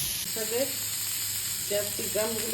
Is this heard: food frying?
yes